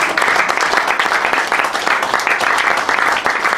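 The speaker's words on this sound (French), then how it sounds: "Applaudissons." A church congregation claps loudly and continuously in a thick, sustained round of applause during a worship service, with faint voices underneath.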